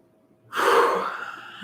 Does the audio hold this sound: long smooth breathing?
yes